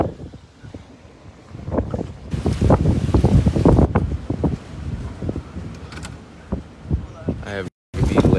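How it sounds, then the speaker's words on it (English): Typhoon wind buffeting a car driving in Okinawa, a steady roaring rush with gusty surges throughout, while a person talks over it. "You can still hear the Typhoon wind."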